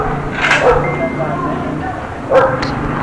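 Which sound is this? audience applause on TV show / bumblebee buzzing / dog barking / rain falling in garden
dog barking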